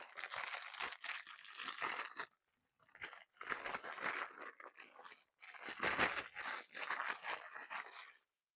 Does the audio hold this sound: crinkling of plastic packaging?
yes